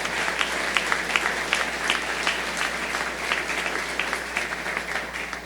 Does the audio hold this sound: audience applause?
yes